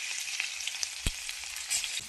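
Small onions, garlic and ginger sizzle in hot oil in a kadai, a dense, bright frying hiss with a single soft knock of the spoon midway, close and continuous.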